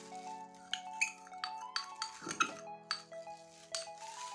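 A utensil scraping and clinking against the sides of a bowl while clay mixture with cooking oil is stirred, giving repeated bright metallic taps and rings at an uneven rhythm, close and fairly clear.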